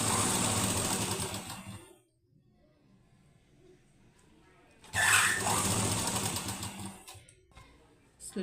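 A sewing machine stitches lining onto a blouse sleeve in two loud rapid whirring runs, separated by a quiet pause with faint handling noise, and a short burst starting again at the end.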